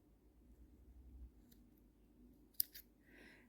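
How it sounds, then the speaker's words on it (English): Scissors snip through crochet yarn, giving one crisp sharp cut followed by a brief quieter rustle against a faint, near-silent background. "cut the yarn"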